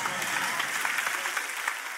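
A church congregation's applause carries on as a fairly even, moderate wash of clapping with a murmur of voices mixed in, neither swelling nor fading sharply over the short stretch.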